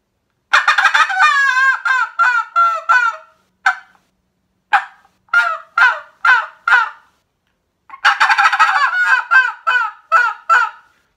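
A hunter's tube call imitates a turkey gobble in loud, rapid rattling bursts, three separate sequences with short gaps between them and no other sound.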